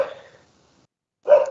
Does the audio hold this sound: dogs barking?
yes